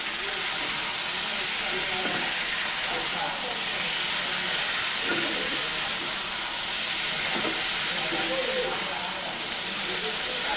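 Yardlong beans sizzle as a curry is stir-fried in a hot pan, giving a constant, close hiss with scattered crackles and faint stirring scrapes.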